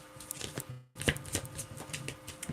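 Tarot cards being shuffled by hand in a quiet room, a steady run of soft papery riffles and flicks with a brief silent gap before the shuffling resumes and continues to the end.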